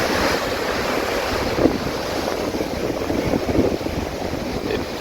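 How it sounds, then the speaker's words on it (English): Ocean waves surge against a rocky coast in a steady roar of surf with wind buffeting the microphone, a few louder wash surges rising out of the constant rumble. "I've never ceased to be amazed by the magnanimity and the force of the ocean."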